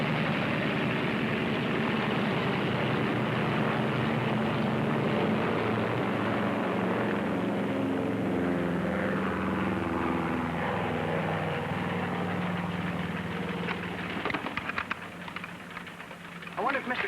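A propeller airplane engine drones steadily and loudly, a continuous rough hum with shifting pitch, thinning out near the end as clattering noise breaks in.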